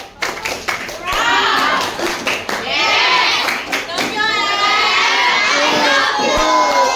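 Children in a classroom clap in a rhythmic pattern and cheer loudly together, sharp hand claps punctuating bursts of shouting young voices, with child speech mixed in and the cheering carrying through to the end.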